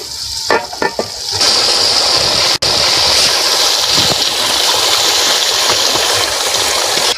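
Chicken pieces dropped into a pan of hot spiced masala for a curry, loud steady hiss and sizzle that jumps up after a few brief clatters and stays strong throughout.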